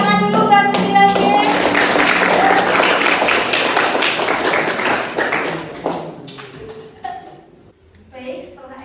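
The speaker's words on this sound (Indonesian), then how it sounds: "Tepuk tangan dulu dan sedikitnya." A class of students claps together, fast and loud at first, then thinning into scattered separate claps toward the end, close by in an indoor classroom.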